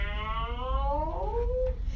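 A human voice imitates a cat's meow, drawn out and wavering as it slides in pitch. It is clear and close, with no other sound around it.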